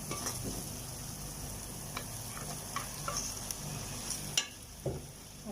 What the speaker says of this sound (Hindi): तो अब हम इसमें चिकन डाल देंगे।